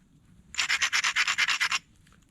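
A flint platform is ground with an abrader during flintknapping: about eleven quick, evenly spaced scraping strokes in a close, steady burst, with no talking.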